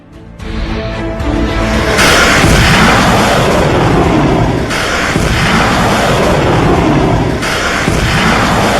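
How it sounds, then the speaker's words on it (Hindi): A cruise missile fired by Hezbollah strikes Israel: loud, roaring blasts recur every few seconds over a heavy continuous rumble, close and overpowering. "यह क्रूज मिसाइल का हमला है इजराइल पर।"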